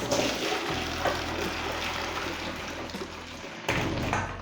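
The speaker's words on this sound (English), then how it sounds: "So we'll just drain the potatoes off." Water from boiled potatoes pours and splashes into a sink as the pan is drained, a steady near rush framed by a thud at the start and another near the end.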